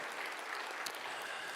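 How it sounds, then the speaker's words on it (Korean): A church congregation at an evening revival service applauds steadily, a dense, even patter of many hands clapping at once, moderately distant and continuous throughout the short burst. "박수 한번 쳐줘요."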